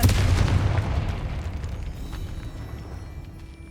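The Confringo spell's explosion in the video game Hogwarts Legacy, a single heavy boom that strikes at once and then rumbles off into a fading, lingering tail.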